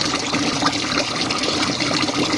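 Hot water rushes steadily into a small RV washing machine as it fills, a constant broadband hiss and splash with no pauses, close to the microphone and without talk.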